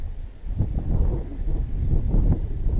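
Wind at 8 to 10 miles per hour buffets an outdoor microphone with a low, uneven rumble that swells and gusts throughout.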